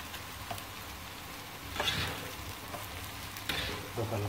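Blonceng (sapu parang) vegetable stir-fried in a pan without added water, giving a steady close sizzle and frying crackle with occasional louder stirring scrapes and bursts throughout.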